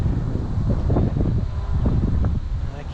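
Wind gusts on an exposed hilltop at Khao Wang in Thailand, a continuous low rumble buffeting the microphone for the whole stretch, loud and close with no clear voices.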